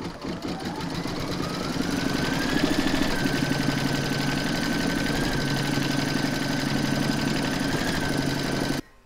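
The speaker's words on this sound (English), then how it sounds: "We're now going to pop that back into your machine and stitch round number two" A home embroidery machine stitches the second round on an in-the-hoop pig applique, a steady loud mechanical whir with a rapid needle rhythm that runs without pause for about nine seconds, then stops.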